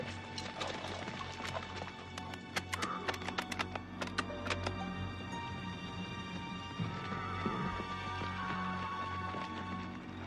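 Horses whinnying and neighing in a wartime cavalry film about the Light Horse, several shrill cries over a dense background of hoof clatter and battle clutter, fairly close and continuous.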